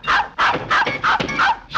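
A cartoon dog barks rapidly and loudly up close, a run of about six sharp yappy barks in quick rhythm with brief whimpering tones between them.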